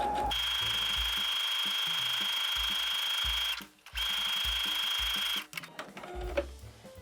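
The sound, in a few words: sewing machine stitching zipper onto fabric pouch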